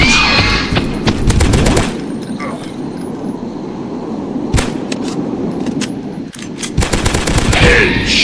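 Gunfire in a dinosaur hunting video game: loud bursts of rapid shots at the start and end, with single sharp reports between and a steady noisy background throughout.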